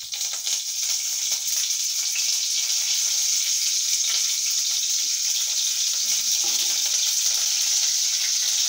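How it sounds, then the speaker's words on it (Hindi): Curry leaves sizzling in hot oil for anda bhurji, giving a loud, steady, hissing crackle that holds constant throughout with no voices. "अब इसमें करी पत्ता डालूंगी"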